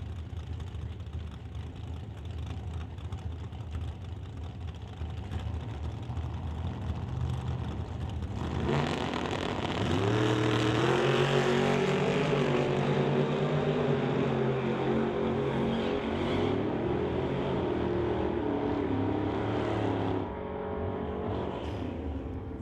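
A Ford Roadster and a Ford Falcon launch side by side in a drag race at Doorwarz 11, National Tire Non Electronic Series. Engines rumble at idle, then erupt into a loud, sustained roar that carries for about ten seconds before easing slightly.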